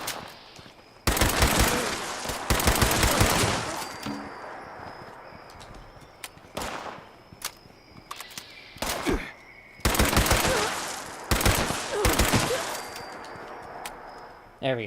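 Bursts of berserker explosive pipe rifle fire from Fallout 76, rapid full-auto volleys with explosive cracks, loud and close, coming in several separated bursts across the clip, with brief gaps and a voice talking faintly between them.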